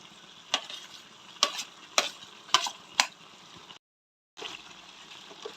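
Tomatoes sizzle in a hot pan while a utensil stirs them. Several sharp clanks against the pan ring out over a soft, continuous fry, which drops out briefly and then resumes.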